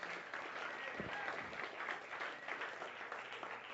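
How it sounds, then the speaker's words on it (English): An audience at a magician and mentalist's magic night in Atlanta gives a sustained round of applause, with dense, even clapping throughout. "I'll take a round of applause instead"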